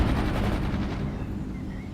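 Machine gun fire in the strategy game World in Conflict, a rapid rattling burst of rounds that is loud at first and then tapers off over two seconds.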